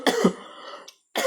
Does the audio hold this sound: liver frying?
no